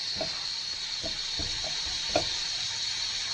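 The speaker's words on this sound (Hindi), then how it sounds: "इसको मैंने थोड़ा सा सौते करना है।" Food sautéing in a pan as the base for a tomato pasta sauce gives a steady, soft sizzle with a few light stirring clicks and scrapes, close by with no talking.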